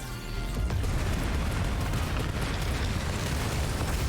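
Explosion in the video game Final Fantasy XVI, a sustained, loud, roaring blast with dense rumbling low end that holds steady for several seconds after a quick onset.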